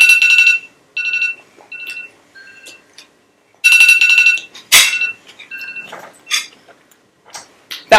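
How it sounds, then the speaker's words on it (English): A kitchen timer set for tea rings in repeated bursts of shrill electronic beeping, loud and close, with pauses between, then gives way to clattering and shuffling kitchen noises. "that was my timer for my tea"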